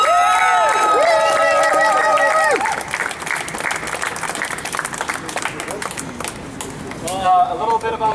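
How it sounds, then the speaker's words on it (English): An outdoor crowd at a rally outside a federal building claps and cheers, with shouts and whistles at first, then scattered clapping fading under a nearby voice. "So go ahead and give you guys a round of applause."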